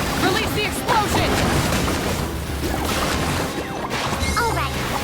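A Genshin Impact explosion from a fungus-battle event erupts in dense crashing, rumbling game effects that fill the whole stretch loudly, with scattered sparkly effect tones layered on top.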